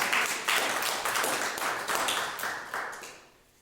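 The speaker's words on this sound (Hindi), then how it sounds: "ताली बजाओ यार" Church congregation at a Sunday worship service clapping hands in a steady rhythm of loud, evenly spaced group claps that fade away at the end, with no voices over it.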